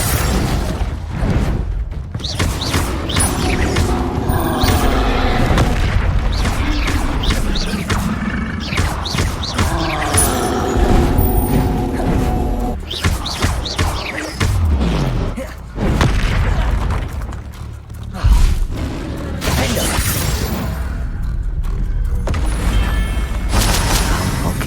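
Confringo blasting spells explode in Hogwarts Legacy, giving repeated loud booms and bursts in a dense, continuous stretch of game combat noise with music.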